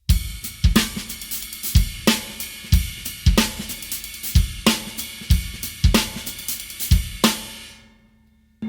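A drum kit plays a triplet ride and hi-hat groove sticked right, right, left: steady ride and hi-hat strokes with regular simple bass drum hits, crisp and close, ending with a ringing cymbal decay.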